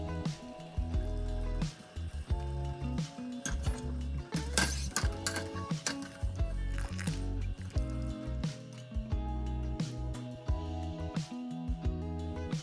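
A ladle scoops cooked wontons out of a pot of boiling water with a run of wet sloshes, drips and light metallic clinks, repeating unevenly and heard up close.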